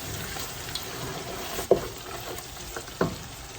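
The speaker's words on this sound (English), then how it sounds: "I will let this roast for about a couple of minutes." Powdered spices roast in a pot for a Sri Lankan mutton biryani with a soft, steady sizzle, broken by a few sharp scrapes and taps from stirring.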